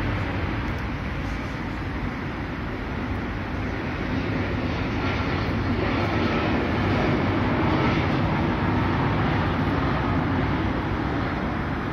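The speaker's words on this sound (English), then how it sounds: "An aeroplane." A steady, broad roar of an aeroplane passing overhead, constant and fairly loud throughout with no voices.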